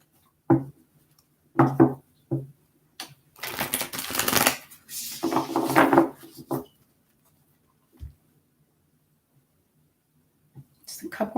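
Tarot cards shuffled in several bursts of soft riffling and sliding, close and fairly quiet, with pauses between and a brief knock near the end.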